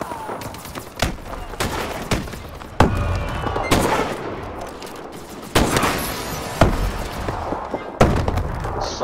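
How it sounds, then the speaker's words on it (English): Gunfire and explosions in Call of Duty: Advanced Warfare Team Deathmatch on Xbox One, with loud repeated booms and bursts of rapid shots layered densely over constant battle noise. "So much stuff going on right now, guys. All these explosions"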